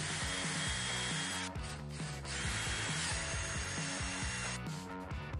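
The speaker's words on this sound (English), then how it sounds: "Then I came back after I got that drilled with the correct size drill bit for the final" Power drill boring holes with a sized bit into a wooden jigsaw puzzle board tray, running steadily and loud with brief pauses and bursts of higher whine, no talking.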